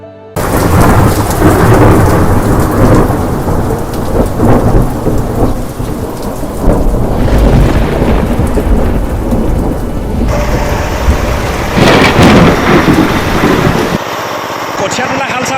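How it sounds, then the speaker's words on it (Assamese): A monsoon thunderstorm pours heavy rain over Assamese farmland. Dense, steady rainfall drums on surfaces while deep thunder rolls through, loud and near, ending in a slightly quieter patch of rain. "যেতিয়াই বাৰিষাৰ কলা কলা ডাৱৰবিলাকে বৰষুণ হৈ পৃথিৱীলৈ নামি আহে"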